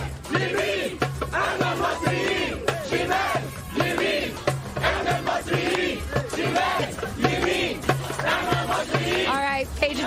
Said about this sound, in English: now we have an entire crowd chanting and singing